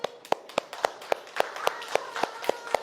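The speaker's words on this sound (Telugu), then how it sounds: "Very good, claps." A group of schoolchildren claps in a classroom, about a dozen sharp, evenly spaced claps in a steady rhythm, close and clear with faint voices between them.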